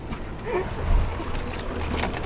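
A Shallow Sport 25' X3 walk-through boat running on water, with a steady low rumble of engine and hull mixed with splashing and wind noise close by.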